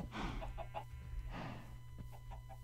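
Chickens in the Minecraft game clucking in short, repeated bursts, fairly close and clear over a faint steady hum.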